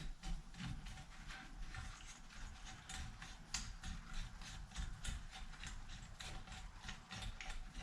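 A part is screwed by hand into a Yamaha Raptor 660 engine case, giving repeated quiet clicking and ratcheting mechanical sounds in an uneven rhythm, close and faint with no talk.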